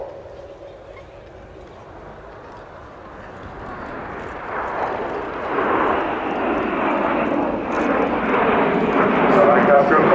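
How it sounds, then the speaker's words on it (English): An Avro Lancaster bomber's propeller engines approach at an air show, a low drone swelling into a loud, steady roar, under a commentator's voice on the public address. "In from the right-hand side, it's the Lancaster roll."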